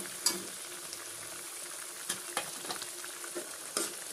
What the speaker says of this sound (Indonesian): Kita masukkan ke dalam tumisannya